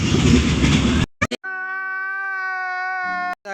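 An empty passenger train in motion, heard from inside: a dense rumbling roar for about a second, a few short knocks, then a long, steady, loud harmonic tone that holds for nearly two seconds before cutting off.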